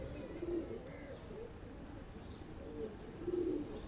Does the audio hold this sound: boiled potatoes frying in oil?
no